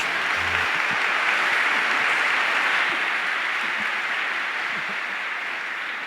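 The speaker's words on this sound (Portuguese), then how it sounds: "A ela, uma salva de palmas." A congregation applauds during a Catholic Mass, producing a dense, steady wash of many hands clapping together that fills the whole stretch at a strong, even level.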